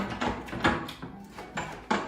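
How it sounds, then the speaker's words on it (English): Metal key turning in a door lock in an escape room, with a few short clicks and clunks spaced apart, close and fairly quiet. "this key opens the door"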